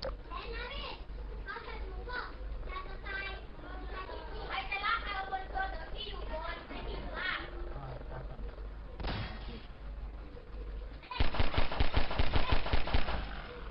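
Rapid bursts of video game gunfire in a Thai-language play session, a steady loud rattle of shots near the end following a stretch of excited talk over the game's background sound.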